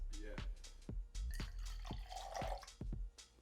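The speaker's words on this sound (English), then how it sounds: "we're gonna have some fresh lime juice. We're gonna do 3/4 of an ounce per cocktail." Fresh lime juice for a margarita trickles and drips into a jigger or glass in a quick run of sharp, close droplet plinks and short pours, fairly faint.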